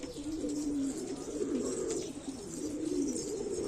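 A pigeon coos nearby in a steady, low, continuous warble that runs the whole time, with faint higher bird chirps in the background.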